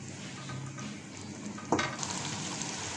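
Minced meat with yogurt frying in a pan, a soft continuous sizzle with occasional stirring scrapes and a sharper clatter near the end, fairly quiet and without talk.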